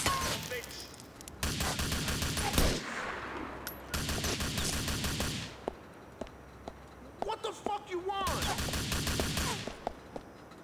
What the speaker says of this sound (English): I like how they give away their position by shooting at nothing.